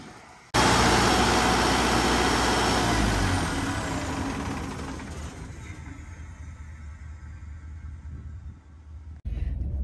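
The diesel engine of an irrigation pivot suddenly roars to life after a cold start, loud at first, then easing into a steady, rattling idle with a low hum, before a brief dip and return of noise.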